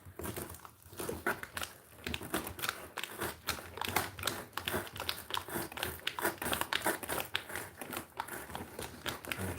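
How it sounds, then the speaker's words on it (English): A razor trims out a circle for a handmade fairy house, giving a steady stream of close, crisp scraping and crinkling cuts in quick irregular strokes with no talking. "I can trim this out with the razor."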